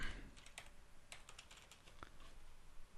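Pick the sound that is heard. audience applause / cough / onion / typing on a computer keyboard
typing on a computer keyboard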